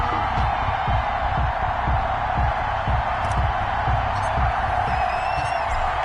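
A packed Baltimore Ravens stadium crowd in an EA Sports NFL game before a matchup with the Tennessee Titans, a steady, dense roar of cheering with regular low thumping beats underneath, continuous throughout.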